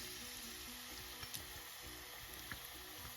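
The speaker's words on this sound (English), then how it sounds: "I'm gonna add my onion in my oil." Onion frying in about three tablespoons of oil, a steady close sizzle with a few faint clinks and scrapes, no talking.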